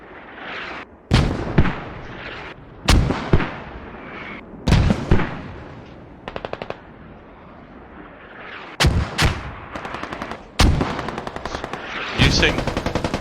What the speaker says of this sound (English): Mortars are coming down now as well.